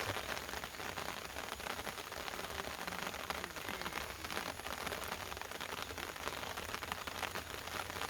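Steady rain pours down outdoors at night during a meal, a dense, even hiss of drops pattering on surfaces that continues without a break at moderate volume.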